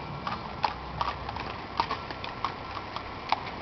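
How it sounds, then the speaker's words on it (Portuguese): Hooves clip-clop on a donkey ride in a town where all the buildings and houses share one colour, a steady, moderately close run of sharp knocks with no talk over them. "Aqui tem um passeio de jumento."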